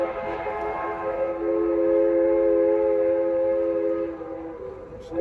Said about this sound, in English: you can hear the steam train.